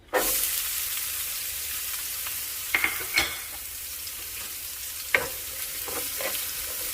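Diced onion hits a very hot pan with residual oil and sizzles steadily and loudly from start to finish, with a few sharp scrape-and-stir knocks of a utensil against the pan.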